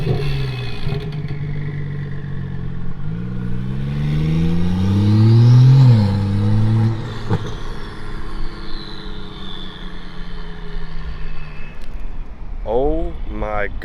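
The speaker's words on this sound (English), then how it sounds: "It sounds like he has a big turbo on that thing." A turbocharged car engine revs up and rises in pitch, then settles back to a steady drone; a voice talks briefly near the end.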